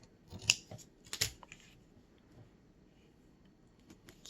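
Scissors snip paper to trim one end to match the other, giving two distinct close crisp cuts followed by softer faint handling in a quiet room.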